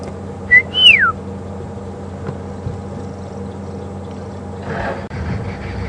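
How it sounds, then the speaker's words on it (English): A safari guide at Djuma Game Reserve gives a loud, close two-part signal whistle, a quick rising note then a sweeping falling one, over a low steady idle hum. "I'll give you a little whistle."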